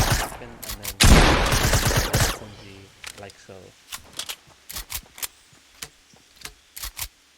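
SMG fire in Fortnite Battle Royale: a dense burst of rapid shots up front, then a string of separate sharp cracks spaced evenly and fading, with a voice talking over the start.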